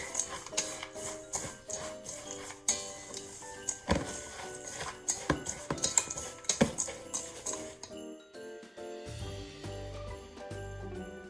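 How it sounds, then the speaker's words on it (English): Pecan tassie filling being whisked in a bowl, rapid uneven ticks and clicks of a whisk with a few louder knocks, giving way to softer tonal background sound in the last few seconds. "And now we're just gonna whisk all this together"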